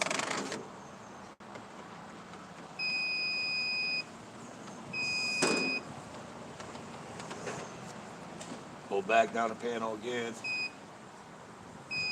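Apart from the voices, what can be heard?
beeping from an electrical panel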